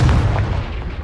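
Hogwarts Legacy's Confringo fire spell strikes rocks with a single loud, punchy blast like artillery fire, then the deep boom fades quickly.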